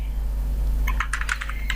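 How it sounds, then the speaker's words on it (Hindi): Rapid bursts of keystrokes on a computer keyboard while typing into a spreadsheet, a quick irregular clatter of several taps starting partway in, close and clear over a low steady hum. "अब मैं इसको ओपन करता हूँ तो मैं यहाँ पे कुछ टाइपिंग करता हूँ"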